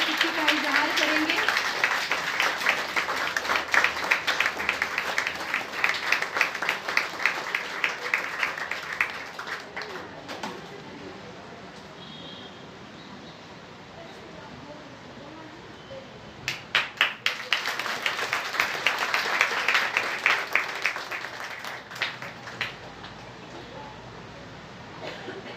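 An audience at a Brahma Kumaris spiritual gathering claps in two sustained bursts of dense, rapid applause separated by a quieter stretch, with voices also present.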